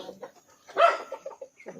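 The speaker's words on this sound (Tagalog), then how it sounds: "Ay, mga manok dito mga master" Chickens clucking nearby, with a louder squawk in the middle and a few softer clucks around it; no talking.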